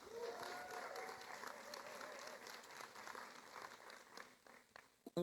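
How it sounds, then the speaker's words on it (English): Audience applause at a Hispanic inclusion symposium welcome session continues at moderate, fairly distant level, thinning toward the end with a few voices mixed in. "Give yourselves a big applause."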